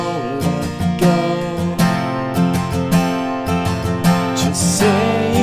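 An acoustic guitar strums a basic chord pattern for a song, with crisp, regular strokes and ringing chords moving in a steady rhythm, close and clear.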